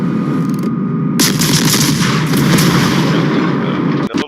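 Naval artillery from a destroyer in the World of Warships video game, the Benson, booms in loud continuous salvos, rumbling heavily throughout with a sharper burst of shots near the end.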